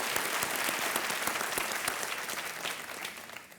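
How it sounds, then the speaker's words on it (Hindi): Studio audience applauding on the KBC television quiz show, dense steady clapping at moderate level that gradually fades slightly toward the end, with no speech over it. "एक बार फिर तालियों के साथ अभिज्ञान प्रकाश"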